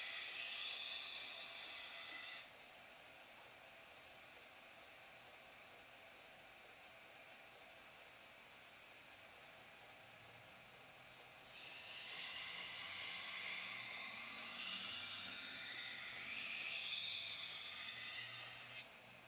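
A belt grinder fitted with a 400 grit belt runs at about 30% speed, giving a steady broadband hiss and whine that grows louder and harsher partway through as the workpiece meets the belt, with no talking.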